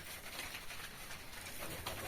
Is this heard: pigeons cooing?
yes